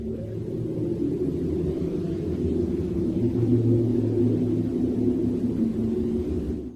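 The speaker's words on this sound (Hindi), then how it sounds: "Uranus sound." Uranus rendered as sound from a converted space radio recording: a steady, eerie low drone with layered tonal bands and faint wavering whistles, continuous and fairly loud throughout, with no voices.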